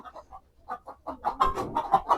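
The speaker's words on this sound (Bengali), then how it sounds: "এই মুরগির ঘরের ভিতরে একশো পিস মুরগি আছে" Chickens clucking close by in a coop of about a hundred hens, a run of short rhythmic clucks that grows louder and busier, with several birds overlapping.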